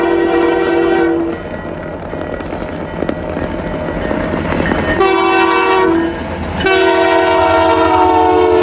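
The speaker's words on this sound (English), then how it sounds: "the CP holiday train" The CP holiday train rumbles past, close and loud, as its horn blows in long, sustained blasts with short breaks between them.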